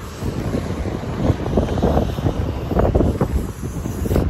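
Strong wind buffets the microphone in rough, rumbling gusts, loud and close throughout, with no one speaking.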